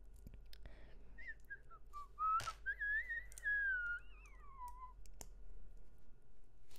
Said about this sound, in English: That was some A-class whistling from me just then.